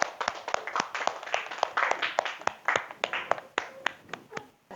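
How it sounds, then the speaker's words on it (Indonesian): A classroom audience claps for a group of students who have come to the front, giving scattered, uneven handclaps at close range that gradually taper off, with no voices over them. "Kita berikan tepuk tangan dulu untuk kelompok 1."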